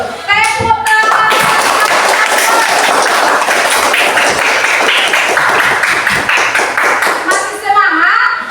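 A classroom group claps hands together, a dense burst of rapid claps lasting several seconds, with voices speaking briefly before and after.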